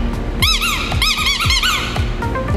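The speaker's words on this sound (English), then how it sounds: "as you squeak, you'll get different reactions" A squeaky toy is squeezed repeatedly to catch a dog's attention during a pet portrait shoot, producing loud, close, rubbery squeals in quick irregular bursts.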